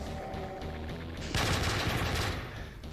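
Weapon fire in a Doom mod that adds Call of Duty guns, a quieter rumbling background that gives way to a louder, sustained blast of shots partway through, with no one speaking.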